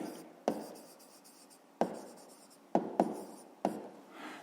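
A pen writes in a school notebook during a fifth-grade maths exercise, giving soft scratching strokes that end in five distinct taps or flicks at uneven intervals, close and quiet with no talk.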